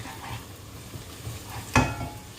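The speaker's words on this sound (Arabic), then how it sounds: "هنقلي البصله كده نقلبها لغايه ما تحمر" Onion frying in a pan while being stirred, with a low, steady sizzle, soft scraping from the spoon, and one brief louder clatter near the end.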